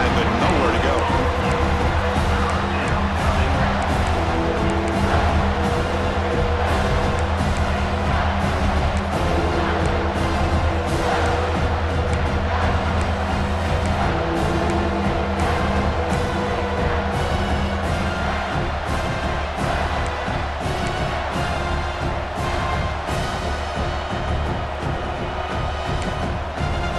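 Stadium crowd noise in EA Sports College Football 26 swells as fans try to rally the defense for a red zone stop. A dense, loud, continuous roar runs the whole time with tonal music layered through it, and commentary plays over it.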